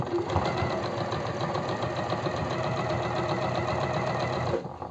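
Sewing machine running a continuous seam on a blouse made of eyelet fabric, a steady close mechanical whir with fast regular stitching pulses that stops abruptly near the end.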